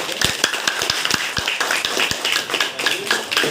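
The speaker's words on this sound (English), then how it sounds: "Can we have a big round of applause?" Applause from an audience at a school inter-class debate competition, a scattered patter of hands with a few sharp, distinct claps standing out, moderately loud and near, no talking over it.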